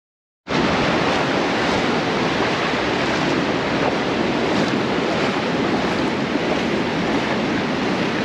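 Surf at Torrey Pines State Beach roars steadily and loudly, with waves breaking continuously and no clear pauses, mixed with wind rumble on the microphone and no voices.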